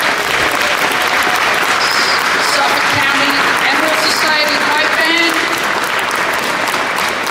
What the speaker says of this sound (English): One more round of applause for the MTA Honor Guard